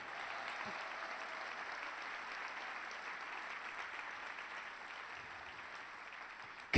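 Steady applause from a church congregation at a service, a dense even patter held at moderate distance for the whole stretch, ending in a sudden louder burst.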